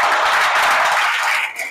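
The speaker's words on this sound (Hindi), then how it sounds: "मैं यहाँ पर आप लोगों की तेज गूंजदार तालियों के साथ इस सेशन को क्लोज करूंगा" An audience at a training session claps together in a steady, dense wash of hands, loud and close, fading off at the very end.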